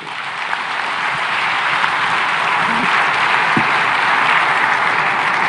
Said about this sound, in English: a big round of applause for President Ruto